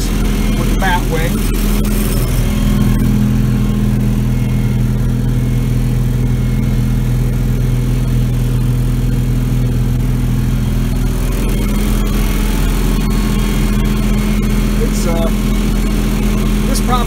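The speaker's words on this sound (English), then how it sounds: "finishing up mowing the open areas with the bat wing." A tractor drives a bat wing rotary mower across the open areas of a rural property, giving a loud, steady engine drone and cutter whir that runs unbroken from start to finish.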